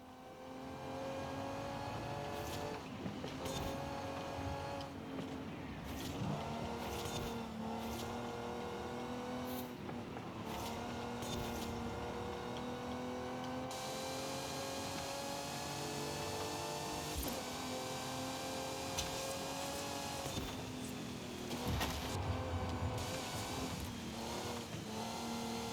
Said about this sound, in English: It's giving inside car noise,